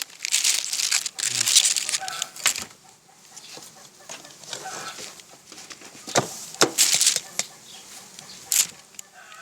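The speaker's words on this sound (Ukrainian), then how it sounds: "Розкриваємо і другу сім'ю, витягуємо теплення, забираємо фольгу." Foil crinkling and rustling up close as it is pulled off a beehive colony during inspection, irregular crackling bursts with handling noises, and hens clucking faintly in the background.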